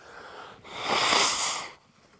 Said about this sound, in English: I got to blow my nose real quick because mucus.